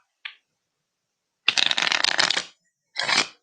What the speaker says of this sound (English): I should be looking up when I shuffle, so I don't actually see the card